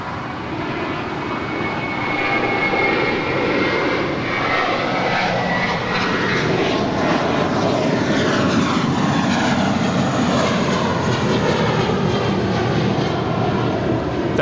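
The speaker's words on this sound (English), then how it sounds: "That is Spirit 266 departing to Philly. It's a 3-year-old Airbus A320." A three-year-old Spirit Airlines Airbus A320 departing LAX for Philadelphia, heard as a loud, steady jet roar that swells slightly and holds at a broad, rushing intensity throughout.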